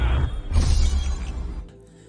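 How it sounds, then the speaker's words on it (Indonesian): The Sisu gem falls and shatters in the animated film Raya and the Last Dragon: a loud, bright crash of breaking crystal that rings briefly, then the scattering fragments fade to near silence. "Kelima negeri itu memperebutkan permata Sisu dan membuatnya jatuh dan pecah."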